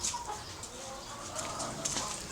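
Egg-laying chickens cluck and murmur steadily at close range, with a few sharper calls rising over a continuous flock babble.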